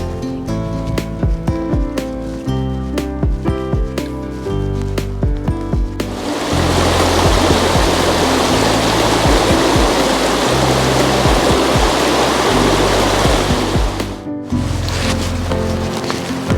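The River Breamish rushes under a bridge in Northumberland's Ingram Valley, a loud, steady broadband flow of water that swells up partway through, preceded by music.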